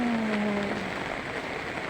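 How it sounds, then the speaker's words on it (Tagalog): Steady broadband hiss of heavy overnight rain falling, constant and moderately loud, with a faint low tone briefly at the start. "Kahit pa paano humina na po ang ulan."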